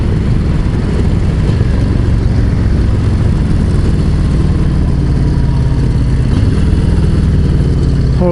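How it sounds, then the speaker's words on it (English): Harley-Davidson Low Rider ST motorcycle fitted with a 131 Screamin' Eagle engine, a loud, steady engine drone running throughout at close range with no talking. "131, Screamin' Eagle. This is living right here, my friends."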